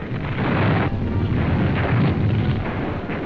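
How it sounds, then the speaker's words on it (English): Wartime explosions from rocket-firing Typhoon aircraft striking German positions at point-blank range, a dense, continuous rumble of blasts and heavy low booms filling the whole stretch with no clear gaps. "rocket-firing typhoons dive like black meteors right on German positions. They blast with explosives at point-blank range"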